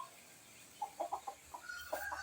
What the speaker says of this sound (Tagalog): Kape kaga patuka sa mga manok ha.